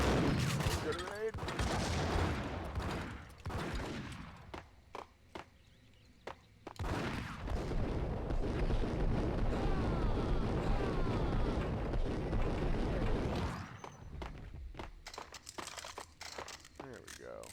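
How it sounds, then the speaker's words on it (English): A grenade explosion in Max Payne, a long roaring blast with crackling debris amid gunfire, with a voice talking over parts of it. "Grenade."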